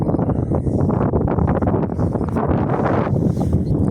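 Strong wind buffets the microphone in a continuous low roar, loud and close, with faint rustling underneath, among newly planted saplings.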